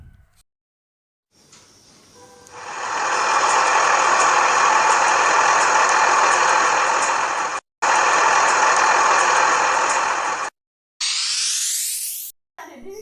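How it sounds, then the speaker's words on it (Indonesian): A pushcart-type vehicle engine runs steadily at idle, a loud continuous mid-pitched hum with a faint knocking rhythm, briefly cut twice before a rising sweep. "mobil sorong,"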